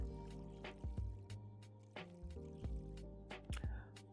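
Garden plants are watered in the game Witchy Life Story 2, with soft dripping, splashing game sounds repeating in short bursts over quiet background music.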